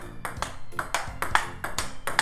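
Table tennis ball striking a soft, tacky beginner-grade rubber paddle, a rally of repeated crisp hits and bounces at a steady rhythm, fairly close and clear with no talk over it.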